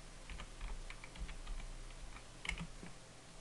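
Quick, uneven clatter of typing on a computer keyboard, light key taps close by over a faint hum, with no talking.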